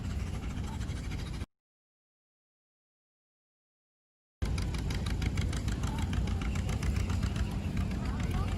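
A tractor engine idles steadily at a tractor show, a low, even chugging rumble that cuts out into full silence for about three seconds and then resumes at the same level.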